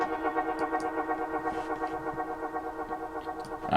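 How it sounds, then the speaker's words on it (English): A synthesized dub effect sound from the Nexus plugin swirls with a long delay and heavy reverb, pulsing in a wobbling rhythm. It is fairly quiet and plays alone, with no voices. "This is just a little dub effect sound."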